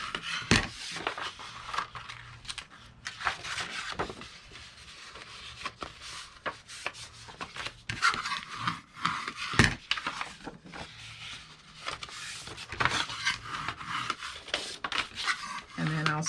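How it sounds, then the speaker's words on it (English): Scored paper is folded and burnished by hand while making a budget Christmas gift, giving soft intermittent rubbing and scraping strokes at close range with occasional brief knocks. "now we are going to fold and burnish all of our scores"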